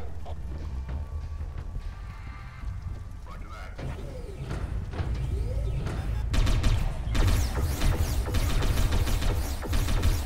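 Gunfire in the Satellite Reign video game, clattering mechanical bursts that grow louder and denser toward the end over a steady low rumble, with a voice talking over it.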